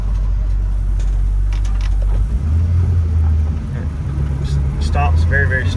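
A Toyota Land Cruiser fitted with power steering and power brakes drives along, its steady engine rumble and road noise loud and continuous while a person talks over it.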